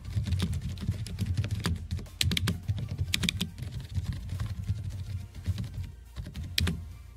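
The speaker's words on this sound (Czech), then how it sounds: "navíc vás možná trošku zklamu, ale jedná se o membránovou klávesnici" A membrane gaming keyboard being typed on, a steady run of muffled, soft key presses with occasional louder strikes, close and alone.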